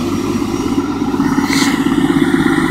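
Cummins 6.7 diesel truck engine idling while warming up after a cold start with the exhaust brake on, a steady loud low rumble with clattering texture throughout, no talk.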